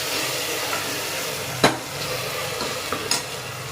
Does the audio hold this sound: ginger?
yes